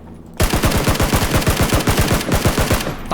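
Sustained automatic gunfire in Battlegrounds, a loud, close, continuous stream of rapid shots running for nearly three seconds after a sudden start, with almost no talk over it.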